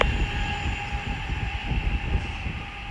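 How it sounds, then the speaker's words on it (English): An Avanti West Coast train heading from London Euston to Liverpool Lime Street rolls through Watford Junction with a continuous rumble, rail noise and a steady high tone, close and sustained throughout. "right here is the Avanti West Coast service from London Euston to Liverpool Lime Street"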